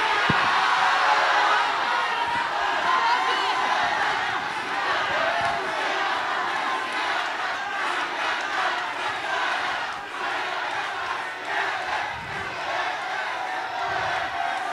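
A studio audience at a televised music contest show cheers and shouts loudly as a group, a dense, sustained roar of voices that eases slightly partway through.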